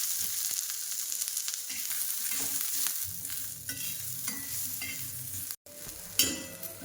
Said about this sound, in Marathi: थोडं तेल टाकूनच कांदा भाजायचा आहे